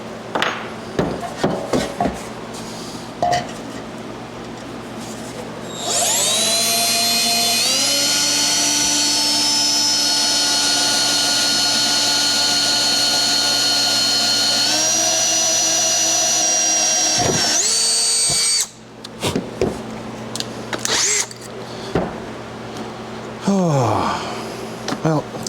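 A power drill with Harbor Freight bits bores holes for a gas tank mount on an XLCH chopper, one long loud sustained whine lasting about twelve seconds after short bursts, with shorter runs and clatter around it and no talk.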